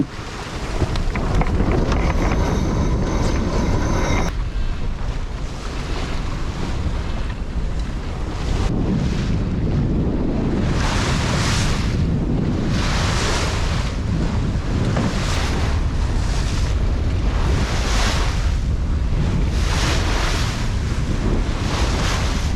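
Wind and waves buffet a sailboat beating upwind out of a bay in 10 to 15 knots, a loud, steady rush of wind noise with rhythmic surges of surf and spray, no voices.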